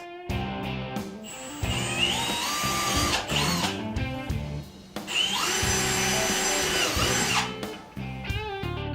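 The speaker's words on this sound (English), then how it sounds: "locate the markings under the lip and drill just as we did in the front." A power drill whines loudly in sustained bursts, the pitch rising and falling as it bores holes in an ice-fishing shelter sled, with short pauses between holes.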